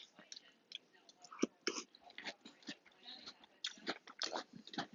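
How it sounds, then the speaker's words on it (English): Crunchy cereal chewed close to the mic: soft, quiet, irregular crisp crunches and mouth sounds in quick succession, with faint whispery breath between bites. "Each crunch has like a smooth but like crispy feel to it."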